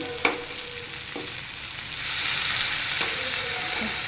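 A spoon scrapes and stirs in a pan with clicking knocks, then ginger-garlic paste hits the hot oil and a loud, steady sizzle takes over for the rest of the clip.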